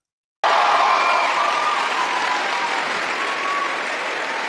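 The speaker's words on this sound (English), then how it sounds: "And they're clapping." Crowd clapping at a TPUSA event, a sudden dense burst of applause from a large audience with faint cheering mixed in, sustained at full strength for several seconds.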